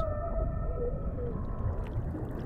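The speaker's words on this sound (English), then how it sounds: "The whales in different oceans have different songs." Underwater humpback whale song: long, smooth, sliding moans and tonal calls drift over a deep, rumbling ocean background, with no voices present.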